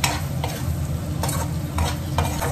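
A spoon stirs a whisked egg white mixture in a hot frying pan for a boiled egg fry, with a continuous loud sizzle and scraping strokes, close up, with no talking.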